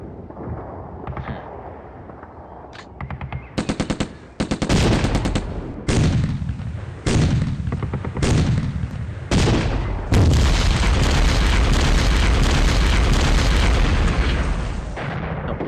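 Gunfire and explosions aimed at a cruiser in the Steel Panthers: World at War video game: sparse pops, then loud repeated booming blasts that build into a sustained roar of fire and detonations, with no talking.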